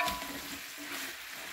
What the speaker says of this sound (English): garlic and onions added. And give it a stir